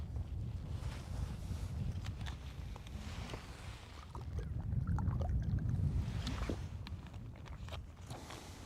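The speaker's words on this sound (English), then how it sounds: "Wind's whipping around a little bit fast here, but we'll make it work." Wind blows across Lake Guntersville as a continuous low rumble that swells and eases, rushing against the microphone with no talking.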